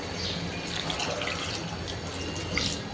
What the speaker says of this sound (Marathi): 1 ग्लास पाणी घातलं मी याच्यामध्ये